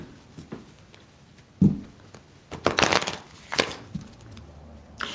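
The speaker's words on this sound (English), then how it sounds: "I need to shuffle a little bit more" A deck of cards is shuffled in a series of irregular crisp riffles and taps, with a louder burst of fluttering card noise in the middle and scattered softer clicks.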